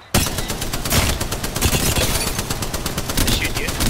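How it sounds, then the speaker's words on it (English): Rapid automatic gunfire from an Apex Legends match, loud and continuous bursts filling the whole stretch, close up. "They shoot you."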